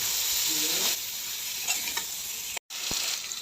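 Greens frying in a pan with turmeric and green chili, stirred with a spatula: a steady loud sizzle with scraping stir strokes and a brief break near the end.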